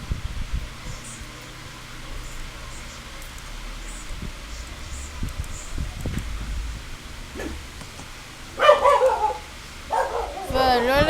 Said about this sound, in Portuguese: olha esse cachorro